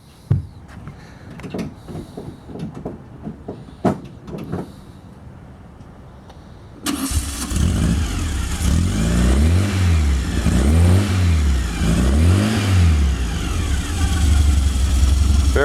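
A 1953 Volkswagen split-window Beetle engine with ceramic-coated exhaust cranks and catches after a few quiet seconds of faint movement, then revs loudly in repeated rising and falling surges, close by.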